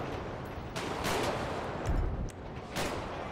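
Gunshots in GTA 5 during a police gang-unit patrol, a few sharp cracks scattered through dense, noisy background clatter, moderately loud and mid-distance, no talk.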